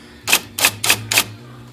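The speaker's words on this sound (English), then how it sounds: "Go ahead and type the word bold again." Four evenly spaced, loud mechanical strikes from an IBM Selectric II electric typewriter as a short word is typed, each a sharp clack over a faint steady motor hum, close up and without talk.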